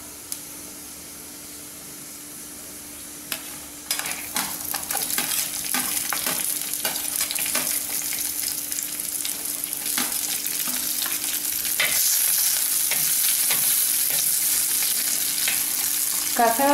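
Whole spices—fennel seeds, cumin and cinnamon—frying in half a spoon of oil in a pan for vegetable kurma, a steady close sizzle with scattered crackles and stirring scrapes that grows slightly louder partway through, no voices.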